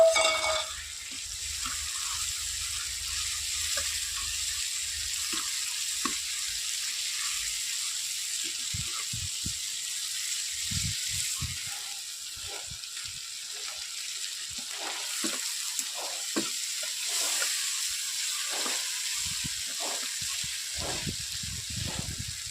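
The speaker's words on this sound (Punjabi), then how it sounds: "ਮਸਾਲਾ ਤਾਂ ਚੁੱਲ੍ਹੇ ਦਾ ਟਾਈਮ ਨਹੀਂ ਲੱਗਦਾ ਉਹਦੀ ਭੁੱਜ ਜਾਂਦਾ ਮਿੰਟੋ ਮਿੰਟੀ" Masala frying on a stovetop pan for a homemade matar paneer curry, giving a steady, close sizzle with occasional stirring scrapes and clinks throughout, no talking.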